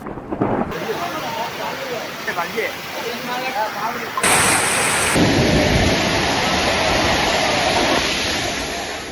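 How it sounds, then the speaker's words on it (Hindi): Heavy monsoon rain pours down steadily in the Sundha Mata hill area near Jalore, with a deep rumble of thunder, the downpour growing louder and denser partway through. "सुंधा माता पहाड़ी क्षेत्र में बारिश मूसलाधार।"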